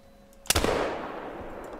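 A single loud rifle shot fired at bison in the hunting video game theHunter: Call of the Wild cracks sharply and then rolls away in a long echoing tail.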